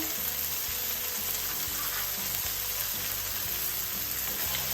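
An egg sizzles in a hot pan while Thai beef fried rice is cooked, a steady dense frying crackle with faint low clinks and thumps beneath, continuous and fairly soft throughout, with no voices.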